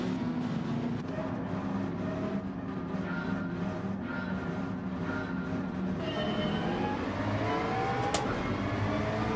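McLaren race car engine pulling away from a standing start in Gran Turismo 7, a steady, dense engine drone with other cars around, its pitch rising in slow sweeps toward the end.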